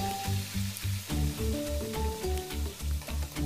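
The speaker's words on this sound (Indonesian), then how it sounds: "yang wajan yang satunya ini untuk menggoreng tempe" Tempe frying in oil in a wok, without any flour coating, sizzles steadily and close up while rhythmic background music plays underneath.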